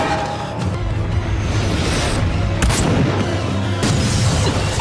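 A distant sniper rifle shot from a Indonesian-narrated action film; a few sharp gunfire cracks stand out over a dense, loud rumbling soundtrack, with the clearest report near the middle.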